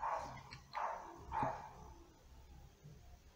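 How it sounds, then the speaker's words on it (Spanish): Small dog barking indoors, three short yappy barks at an even pace near the start, moderately close but fairly quiet, followed by faint room noise. "Porque ese animalito ladra cuando hay visitas."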